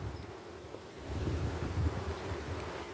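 Honey bees in a hive hum calmly and steadily during an inspection, a soft low drone mixed with faint wind noise, with no talking.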